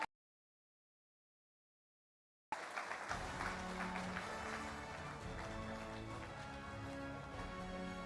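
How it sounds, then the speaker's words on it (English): After a stretch of silence, a large political party convention audience breaks into sustained applause, dense clapping that continues steadily and loudly to the end. "Everyone give a round of applause to"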